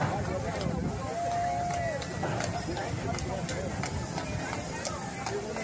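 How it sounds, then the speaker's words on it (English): Hooves of the horse pulling the horse-drawn trolley along Main Street USA at Walt Disney World clop steadily on the street, moderately near, under a constant outdoor crowd murmur with people talking. "The sound of the horse-drawn trolley walking down Main Street USA has always been one of my favorites."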